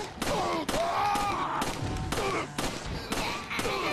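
Repeated gunshots from the video game Resident Evil 4, several sharp loud blasts spaced about half a second apart, with game effects and faint voices underneath.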